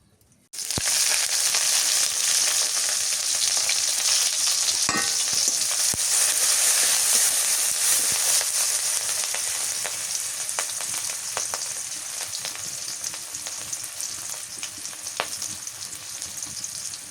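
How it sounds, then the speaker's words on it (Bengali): Jute leaves stir-fry in hot oil in a village kitchen, a loud continuous sizzle that starts abruptly and holds steady, with scraping stirs now and then, close and with no talking. "পাটের শাক ভাজি করি।"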